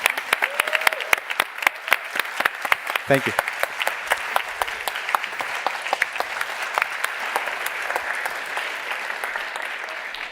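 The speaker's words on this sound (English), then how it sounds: "One more round of applause for Anisha." Audience at the GSS2025 forum applauding a winner, dense sustained clapping from a sizable crowd filling the room, with a short spoken thanks heard over it.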